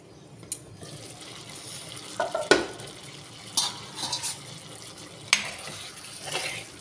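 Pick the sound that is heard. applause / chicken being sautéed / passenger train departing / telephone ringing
chicken being sautéed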